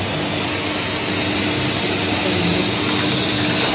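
A household vacuum cleaner runs steadily indoors, a loud, continuous broadband whir with no pauses, heard close and alone.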